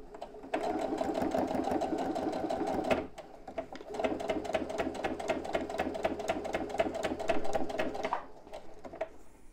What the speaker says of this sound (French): je vais faire une surpiqûre à 2-3 mm des bords